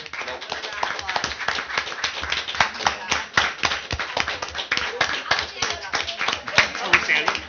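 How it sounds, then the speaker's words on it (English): A school district board of education meeting breaks into a sustained round of applause: dense, even hand clapping from a roomful of people for several seconds, with murmured voices mixed in. "Another round of applause."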